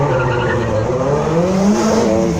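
Renault 1990s rally car on the start line of a hillclimb, its engine revving and rasping loudly with a rising and falling pitch, close by and continuous, with a commentator's voice faintly underneath.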